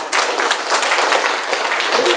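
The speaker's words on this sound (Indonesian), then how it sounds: "Tepuk tangan." An audience at a business presentation breaks into applause, a dense and continuous burst of many hands clapping that holds steady for about two seconds.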